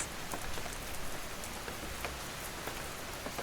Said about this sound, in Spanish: con la lluvia regresando suavemente sobre las ventanas